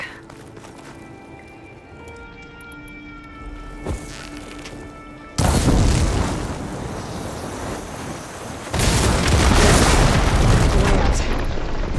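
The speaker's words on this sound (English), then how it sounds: "Hitting those blaze barrels with fire ammo should do the trick." Blaze barrels blowing up in the Horizon Forbidden West video game, two loud broadband blasts that jump out of a quieter ambient bed and leave a sustained roaring rumble after each.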